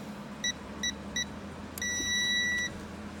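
A KP-100 keypad alarm in a company car gives three short, evenly spaced electronic beeps as the code is keyed in, then one longer steady tone. The beeps are close and clear over a low cabin hum.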